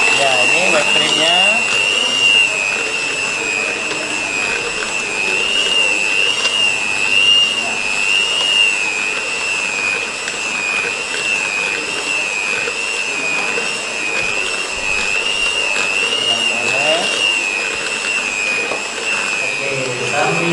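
An electric mixer whips cream for a mille crepe, running loud and steady with a high whine throughout, while voices talk faintly beneath it.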